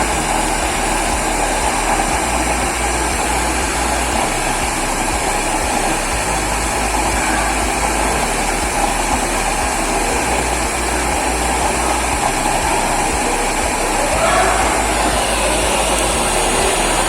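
A loud, steady blower at full setting roars without a break, a dense broadband rush with a faint rising whine near the end.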